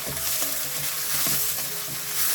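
Vegetables frying in oil for a North Karnataka poha (avalakki) dish give a steady, close sizzle, with light stirring clicks against the pan throughout and no talking.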